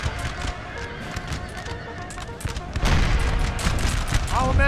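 Horse guards cavalry in Napoleon: Total War neigh and whinny over clip-clopping hooves amid battle noise, with scattered musket fire; the din grows louder about halfway through and stays dense to the end.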